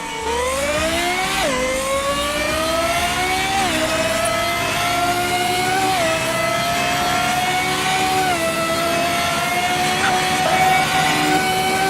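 Lexus LFA engine in the Roblox game Driving Empire revving hard and steadily, a loud continuous high-pitched wail with pitch climbing and dipping through gear changes, close and alone without talk.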